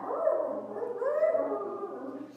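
A miniature pinscher named Max vocalizes in a drawn-out, wavering howl-like whine that rises and falls over a couple of seconds, close by with no talking.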